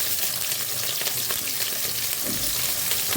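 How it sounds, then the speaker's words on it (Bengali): Sliced medium potatoes fry in a couple of spoons of oil for a Bengali fish head curry, giving a steady, close hiss and sizzle with faint stirring, unbroken and with no talk. "এটা আমি ভাজি করে নেব।"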